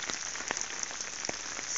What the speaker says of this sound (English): Sorry that you can't hear us because it's raining.